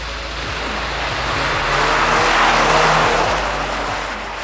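A BMW 318 rally car with its bumper removed drifts on ice, its engine revving and rising then easing off against a broad rush of tyre and surface noise, loud and close.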